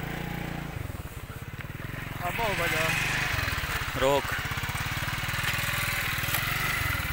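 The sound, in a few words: motorcycle engine running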